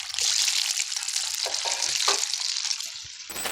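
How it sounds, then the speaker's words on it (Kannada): Chicken kebabs sizzle in hot oil in a pan until they turn reddish, a close, continuous frying hiss with small pops and bubbling bursts. "ಈ ಥರ ಕೆಂಪಗಾಗೋವರೆಗೂ ಚೆನ್ನಾಗಿ ಫ್ರೈ ಮಾಡ್ಕೊಬೇಕು ಕಬಾಬಲ್ಲಿ"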